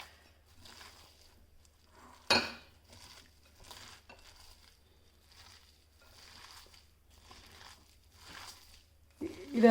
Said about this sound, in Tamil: இதெல்லாம் போட்டு நல்லா மிக்சிங் பவுலில் மிக்ஸ் பண்ணிக்கோங்க